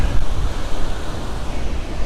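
Ocean surf breaks at Point Pinos on the Monterey coast, a loud, steady roar of waves mixed with heavy wind buffeting the microphone, with no voices.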